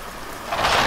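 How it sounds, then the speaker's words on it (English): Steady rain hissing in the background of a horror video game, swelling noticeably louder partway through, with no voices. "The rain got louder. The rain actually got louder."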